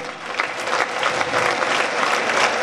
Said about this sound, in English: you raise and clap so that I can understand